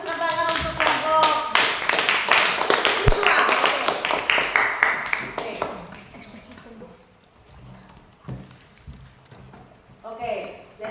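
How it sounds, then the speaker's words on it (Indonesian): A classroom group claps for student presenters, a fairly loud burst of hands for about five seconds that thins into scattered claps, with a voice speaking briefly near the end. "Oke, kita berikan tepuk tangan untuk kelompok"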